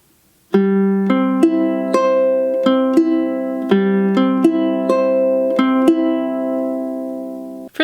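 A ukulele plays a fingerpicking pattern for a song at full tempo, with clear plucked notes in a steady rhythm and no voice, ending abruptly.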